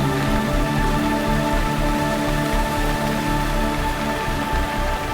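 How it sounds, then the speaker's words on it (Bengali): Heavy rain pours down outdoors, a dense continuous wash of falling water at steady loudness with no talking over it. "এখানে খুব বৃষ্টি হচ্ছে"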